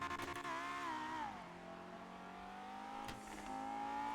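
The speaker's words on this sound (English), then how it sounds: "I want you to drive so you can hear the engine better" Car engine in GTA V on the NoPixel roleplay server revving up and easing off while driving, a loud steady harmonic drone that climbs, drops and climbs again, heard close with no talk.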